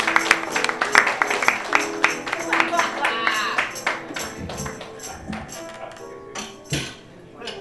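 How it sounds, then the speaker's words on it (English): A comedy club audience applauds as a comedian named Venu Mattraw walks on stage, dense clapping that builds then gradually thins and scatters toward the end, with no talk over it. "Everyone, please put your hands together,"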